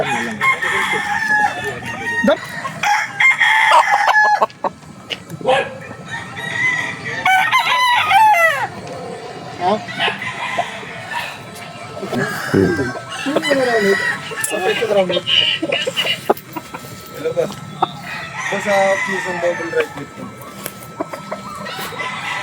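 Perfection roundhead and yellow-legged game fowl roosters on a farm in Norzagaray, Bulacan crow repeatedly, loud and close, with overlapping calls and clucks, while someone talks intermittently among them.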